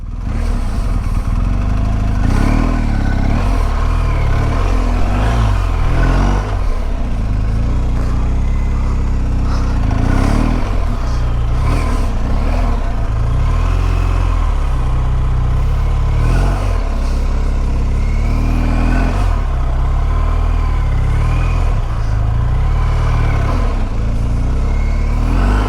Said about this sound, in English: how aggressive you have to be in order to make the bike do much of anything